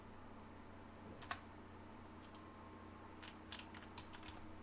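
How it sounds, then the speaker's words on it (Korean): Enter key presses on a computer keyboard during AutoCAD 3D modeling: a few soft, isolated clicks, close but faint, in a quiet room. "엔터 클릭, 엔터 클릭. 두 번 하시고요."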